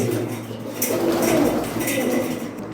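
Pigeons coo in a loft kept for flying breeds, the soft low warbling calls running steadily at close range beneath clinking and light background clatter.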